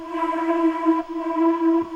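Sustained ambient guitar stem without EQ, a steady droning tone holding one pitch throughout, soft and smooth with no talk.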